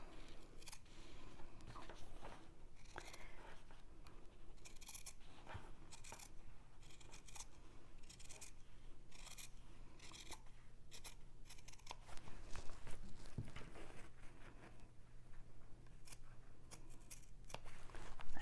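Quiet, close snipping of scissors cutting fabric just outside a drawn line for a sewing bag project, a series of small crisp cuts with rustling of the material and no talking.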